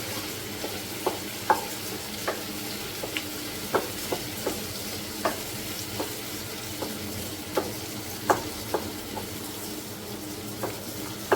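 Onions and tomatoes sauté in a pan with a soft continuous sizzle, punctuated by frequent sharp spatula taps and scrapes in an irregular rhythm, close by and moderately quiet.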